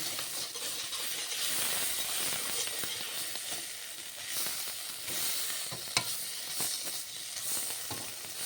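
Water poured into a pan of frying egg masala gives a soft steady hiss and sizzle with light stirring scrapes and one sharp click, heard close at moderate volume with no talking.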